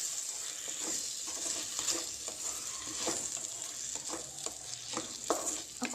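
Okra and tomatoes frying in a pan for a tomato-okra curry, a soft continuous sizzle broken by repeated scraping stirs of a spoon, fairly quiet and close with no talking.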